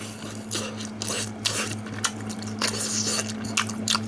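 Someone bites into and chews a frozen Korean sweet pancake (hotteok) pan-fried until crisp, giving a run of close, moist crunching and squishing bites in short bursts over a steady low hum, with no talking.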